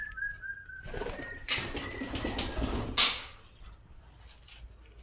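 A pigeon flies in with a burst of flapping wings over about two seconds, close by, amid outdoor background noise and a brief high chirp.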